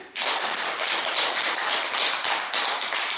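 Applause from an audience at a Buddhist dharma talk fills the space as a loud, dense, steady wash of many hands clapping, starting abruptly and holding for about three seconds without letting up.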